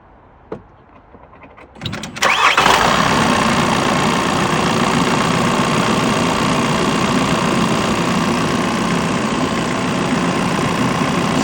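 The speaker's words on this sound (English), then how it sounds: "My next step is to start the engine" A car engine cranks and catches after a couple of quiet seconds, then settles into a steady idle with the air conditioning fan running on full at its coldest setting, a constant close-up drone with no talk.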